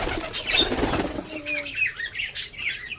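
A domestic pigeon flaps its wings in a quick, close burst, followed by softer fluttering and faint chirps in a quiet setting.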